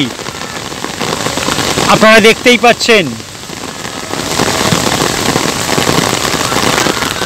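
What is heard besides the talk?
torrential rain during college football match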